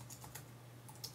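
Light keystrokes tap on a computer keyboard, a few quick soft clicks in an irregular run, faint and close against a low steady hum.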